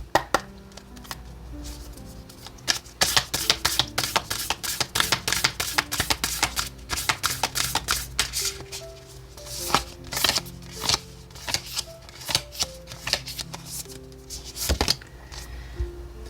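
Oracle cards shuffled, handled and laid out one by one on a table, a long run of close, crisp paper snaps and flicks in quick irregular bursts, with a steady low hum underneath and no talk.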